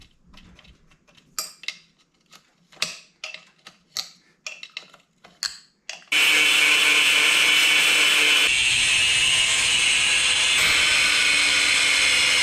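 Work on a stock Banshee motor as a stuck, rusted part gets chopped: a run of sharp, irregular metallic taps and clicks, then a loud, steady power-tool whine that holds to the end.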